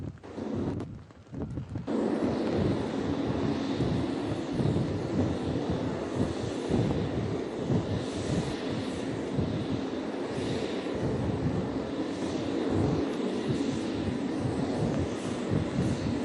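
F-18 fighter jets diving on a strafing run at a US Navy 250th anniversary event, a sustained loud roaring engine rumble with wind buffeting, continuous and distant-to-near throughout.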